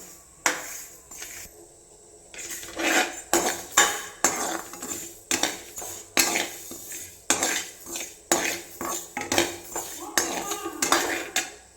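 A spatula scrapes and clatters in a metal pan while fenugreek seeds are dry-roasted for homemade oil, with repeated stirring strokes about once a second, close and distinct.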